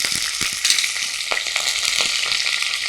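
Cumin seeds, curry leaves and a pinch of asafoetida in hot oil, sizzling and crackling loudly and close, with small pops and stirring scrapes over a constant hiss.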